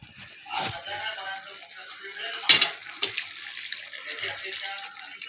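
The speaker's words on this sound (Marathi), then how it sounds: "तर पाणी टाकते थोडंसं।" Water is poured into a cooking pot of mung bean curry gravy, giving a splashing, running sound with a clink of the vessel partway through and soft kitchen noise around it.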